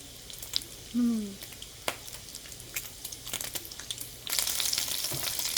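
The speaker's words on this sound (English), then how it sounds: "Oh, look at this sizzle." Soft, steady sizzling of food frying in a pan, with occasional clicks and a brief hum, growing louder and denser toward the end.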